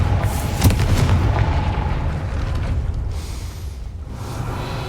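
Confringo blasting spell exploding in the video game Hogwarts Legacy, a loud, rumbling burst with a sharp onset near the start that settles into a sustained, dense roar lasting the whole stretch.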